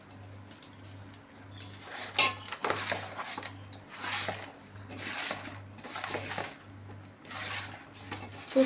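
Andhra-style fish curry being mixed by hand with salt, chili powder and oil in a metal vessel, soft repeated clinks and scraping at a steady rhythm, fairly quiet and close.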